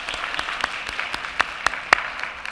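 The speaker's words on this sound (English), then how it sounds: "So if we could just give a quick round of applause for the support." An audience at the closing session of a regional forum gives a quick round of applause, with many hands clapping in a steady patter and a few louder individual claps standing out near the front.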